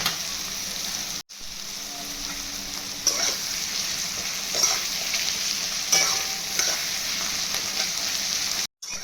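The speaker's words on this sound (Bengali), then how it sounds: "পেঁয়াজটা লাল লাল করে ভাজা হয়ে গেছে।" Onions fry in a pan with a continuous, even sizzle, broken by occasional stirring scrapes and two very brief gaps.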